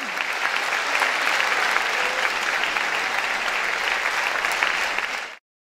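A theatre audience applauds the actors at the end of a stage play, a dense, sustained wash of clapping from many hands that holds steady for several seconds before cutting off abruptly.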